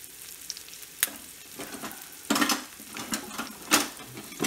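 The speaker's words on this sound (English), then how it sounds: "we cut the bun and put it right in the fry pan" A cut hamburger bun frying in a frying pan, a close sizzle under intermittent clinks and scrapes of a spoon or utensil against the pan, with no talking.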